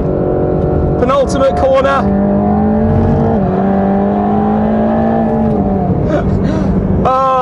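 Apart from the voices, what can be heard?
Mercedes-AMG GT Black Series engine on race track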